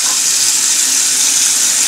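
Tap water pouring steadily from a faucet during a drinking-water filtration test, a loud, even hiss that carries on alone throughout.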